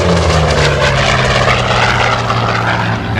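Hawker Sea Fury T.20 radial piston engine roaring loud and close as the aircraft flies past, a thick propeller drone sustained throughout with no voices.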